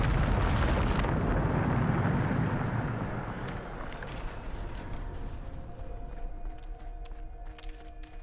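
Bombarda spell explosion in the video game Hogwarts Legacy, a loud, close blast and rumbling roar that fades over a few seconds into scattered debris clatter and faint game ambience.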